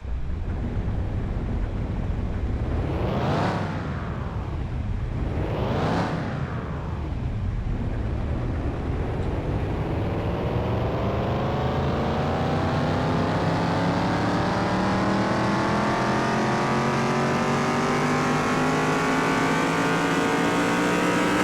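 In the Car Mechanic Simulator 2021 dyno speed test, a car engine loudly revs up and down twice, then climbs into one long, steady acceleration that holds high through the gears with wind-like roar, with no voices.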